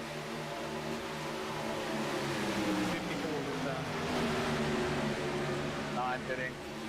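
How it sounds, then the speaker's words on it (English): A racing truck in the iRacing sim passes at Homestead, Florida, its engine drone rising and falling steadily over a continuous background hum. "One truck just come by."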